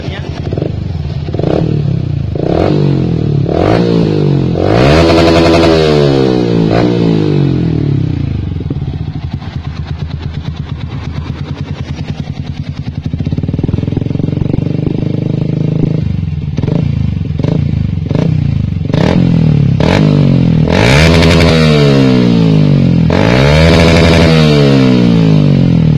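A Yamaha Vixion Advance with a red-trimmed Wkrapovic aftermarket exhaust is revved hard and repeatedly up close, with sharp throttle blips rising and falling over a loud idle and a few longer sustained pulls.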